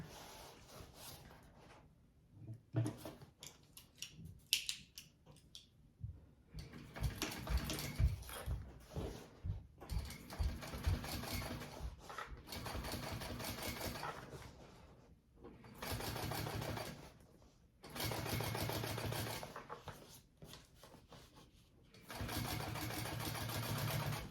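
A sewing machine top stitches a handbag panel in several bursts of steady, rapid mechanical whirring, stopping and restarting with short quiet pauses in between; fairly faint overall.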